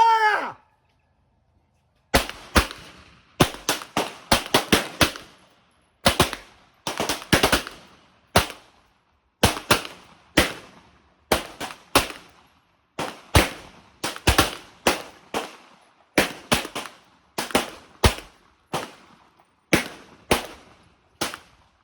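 A Webley MKIV .38 revolver fires a long series of sharp, loud gunshots, some in quick clusters and others spaced apart, each cracking and dying off quickly in an otherwise quiet setting, with no voices.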